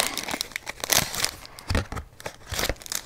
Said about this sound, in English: I'm going to go ahead and open this new little thank you card that I ordered